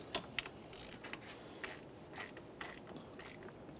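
A hand ratchet snugs up bolts on the ignition control module of a 1994-1997 Honda Accord, giving a close, rapid series of clicking ratchet strokes in short bursts with no talk.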